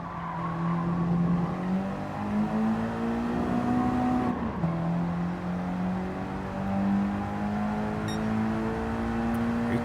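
A Nissan Silvia in Gran Turismo 7 on the Nürburgring, its engine droning steadily under load with rising pitch, a brief drop at a gear shift, then climbing again, mixed with tire squeal throughout.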